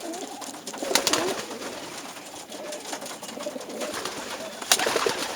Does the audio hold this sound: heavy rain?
no